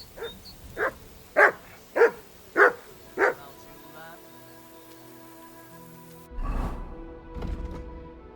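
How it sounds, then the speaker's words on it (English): In Kingdom Come: Deliverance II, a dog barks six times in a steady, loud sequence close by, followed by quieter ambient game sound with faint rain-like patter and a voice near the end. "Good dog, Mutt."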